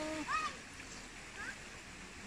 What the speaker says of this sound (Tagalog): Dito maglaba sa ilog.